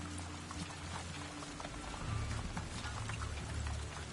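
Rain falling in the video game Avatar Frontiers of Pandora, a soft continuous patter and spatter of drops on foliage, quiet and steady with a low rumble underneath.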